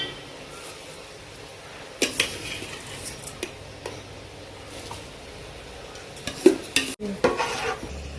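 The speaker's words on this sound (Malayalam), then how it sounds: "ഇനി നന്നായിട്ടൊന്ന് ഇളക്കി കൊടുക്കാം" Rice being stirred in boiling water in a pot for kada biryani, with scattered scraping and clinking of a utensil against the pot over a low bubbling background, louder knocks near the end.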